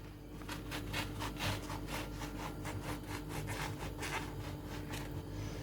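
A knife saws through a large sandwich loaf for kumru, making a quiet, rhythmic rasping of repeated strokes against a steady low background hum.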